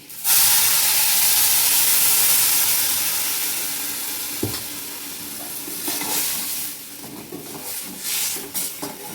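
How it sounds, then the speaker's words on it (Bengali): A loud burst of hissing sizzle as water hits hot fried Gobindobhog rice, gradually settling into softer bubbling with occasional stirring clinks. "এবার আমি জল দিচ্ছি।"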